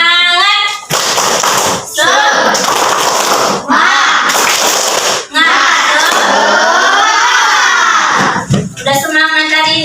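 A classroom of children chanting and clapping together in rhythm, loud and close, with several short pauses between bursts of shouted chanting.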